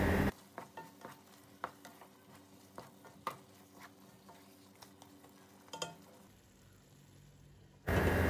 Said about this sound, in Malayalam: ലാസ്റ്റ് ഫ്രൈ ചെയ്ത് വെച്ച സവാളയും ചേർത്ത് ഒന്ന് മിക്സ് ചെയ്താൽ മസാല റെഡിയായി.